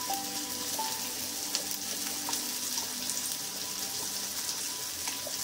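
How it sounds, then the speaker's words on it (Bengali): A mustard and poppy seed paste with green chilli sizzles in a pan over high flame, making a steady crackling fry with small pops and occasional stirring scrapes. "পোস্ত আর সর্ষের বাটাটাকে ভালো করে একটু ভেজে নেব।"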